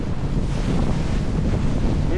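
Steady wind roars across open sea around a fishing boat off the Mitsio Islands in Madagascar, a loud continuous rush with low buffeting on the microphone and waves mixed in, and no voices.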